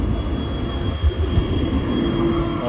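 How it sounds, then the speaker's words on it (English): A tram rolls past on a Bratislava street, a loud, close, steady rumble of wheels on rail with a faint high whine running through, and no voices. "Another tram."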